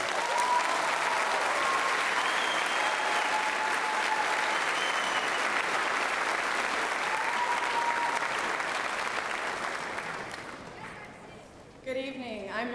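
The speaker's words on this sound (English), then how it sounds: "Let's give him a round of applause." A large crowd at a middle school eighth grade celebration applauds steadily and loudly, the clapping fading out near the end before a voice begins speaking.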